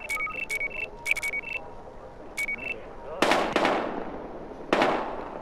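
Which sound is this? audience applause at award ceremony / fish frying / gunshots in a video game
gunshots in a video game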